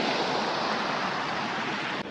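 Heavy, steady rush of water pouring through a village check dam beside farm fields, a loud continuous broadband roar with no pauses or voices.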